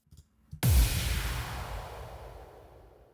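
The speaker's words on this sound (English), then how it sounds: "Then we have these sounds, which are basically impacts sounds." A single heavy cinematic impact hit from a metal song mix, booming and loud after a brief quiet lead-in, then a long washy tail that slowly decays over a few seconds.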